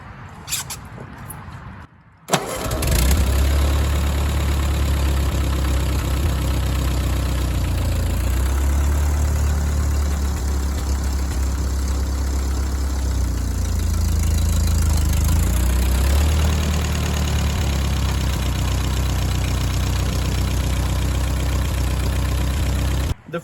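Ford 8N tractor engine catches after a brief crank and settles into a loud, close, steady idle with a low rumbling throb that continues to the end.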